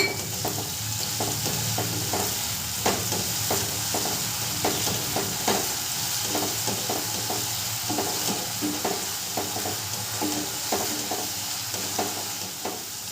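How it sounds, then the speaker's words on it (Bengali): Spice paste with a little water sautés in a pan for bhuna khichuri, a continuous close sizzle broken by regular scraping strokes of a spoon stirring it, with no talking. "জল দিয়ে মশলাটাকে কষাবো।"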